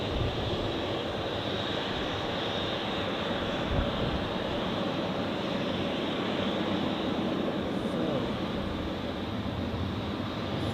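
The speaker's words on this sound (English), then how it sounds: "So, Swiss A330 started taxiing." A Swiss Airbus A330 taxiing at Zurich Airport, a steady, even engine roar with a broad whine that holds constant and fairly distant the whole time, no voices.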